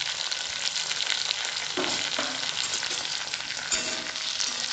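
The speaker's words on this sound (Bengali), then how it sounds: "এবার আমি এর মধ্যে ভেন্ডিটাকে ভেজে নেব।" Okra (bhindi) fries in hot oil with salt for a Bengali bhindi do pyaza: a loud, constant close-up sizzle, broken by a few scraping stirs.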